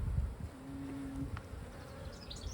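Honeybees buzz continuously around an open hive during an inspection, a soft, close, steady drone with a brief higher-pitched wing tone in the middle and no talking.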